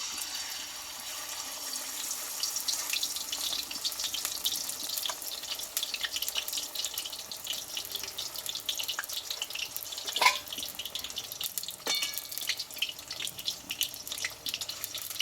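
Pumpkin leaf fritters, made without gram flour, sizzle in hot oil with a steady, dense hiss that runs throughout, broken by a few louder pops and crackles.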